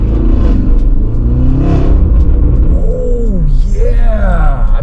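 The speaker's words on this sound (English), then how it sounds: "it sounds so much better now, thanks to this exhaust" Porsche Cayenne Turbo with an aftermarket exhaust revving hard, a loud deep rumble that swells and falls through several throttle blips, while people talk and exclaim over it.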